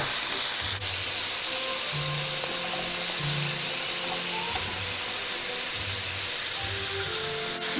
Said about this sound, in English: we're going to go ahead and sear them in about 3 batches